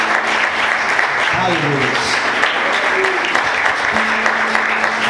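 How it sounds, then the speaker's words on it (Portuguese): A church congregation applauds for Jesus during a Portuguese-language service, loud continuous clapping that runs the whole time while voices call out over it. "Vamos aplaudir Jesus."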